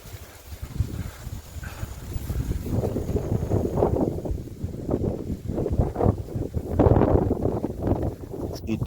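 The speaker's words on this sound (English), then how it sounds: "Very windy day today." Strong wind blows by a river on a stormy day, gusting loudly in uneven rushes and buffeting the microphone, with no talking.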